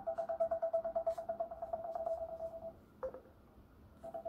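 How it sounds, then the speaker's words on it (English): Ringtone from an Energizer Hardcase H10 phone: a quick run of pulsing electronic beeps, then a pause and a fresh burst, played fairly quietly from the rear speaker with nothing else heard. "Let's see the ringtone."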